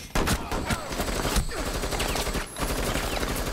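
Dense, rapid gunfire from Rainbow Six Siege fills the scene, with loud sustained automatic bursts and individual sharp cracks packed close together and only brief gaps between them.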